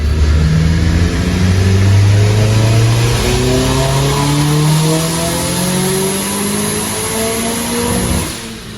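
An ethanol-powered, turbocharged Nissan Cube revs hard through a boost pull, its engine note climbing steadily in pitch, loud and close, before easing off near the end.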